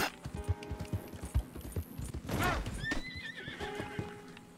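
Horse in Red Dead Redemption 2 clip-clopping with several distinct hoof strikes up close, followed by a loud neigh and snorting, with background game sounds.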